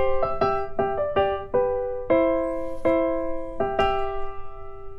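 A piano plays a bright theme-and-variation melody in a higher octave with added harmony, the left hand holding the bass under the right-hand tune, as a series of clear struck notes and sustained chords with no talk.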